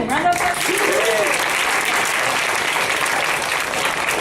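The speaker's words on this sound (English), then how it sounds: "Round of applause" Audience at a nerd night talk applauds a speaker being introduced, a dense, steady wash of clapping that fills the clip at full strength, with a few voices and cheers mixed in near the start.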